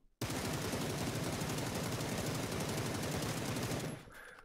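A long unbroken burst of rapid automatic gunfire from a gun with an extended magazine in PUBG's practice range rattles loudly for nearly four seconds, then stops abruptly into quiet.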